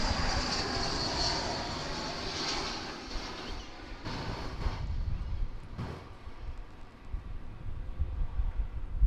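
Passenger airliner on flight 563 passing at DFW Airport, a broad steady roar of jet engine noise filling the clip, fairly loud and continuous with slight swells, no talking over it.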